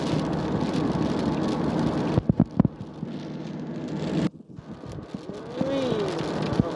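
Steady rain hiss and road noise from a car driving toward Maha Sarakham under heavy storm clouds, continuous and fairly loud, with a few sharp thumps and a brief drop-out midway; a voice speaks faintly near the end.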